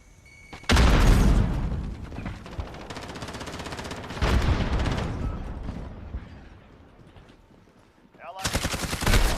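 Grenade throw and gunfire in the shooter Call of Duty: Modern Warfare, hardcore mode: heavy, booming bursts of close automatic fire in three separate waves, with quieter rumbling between them.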